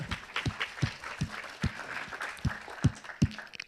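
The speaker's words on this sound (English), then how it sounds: "Round of applause for that." At a wealth forum keynote, an audience gives a fairly quiet, brief round of applause, with scattered, uneven claps that rise and fall over a few seconds.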